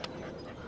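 A small dog pants quickly and softly in a brief, close, continuous burst of breathy huffs.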